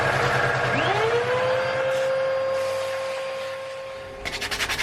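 Corners of a hardwood salt and pepper box being sanded, with a continuous rubbing, humming machine-like drone and a rising whine, ending in a quick series of rhythmic pulses.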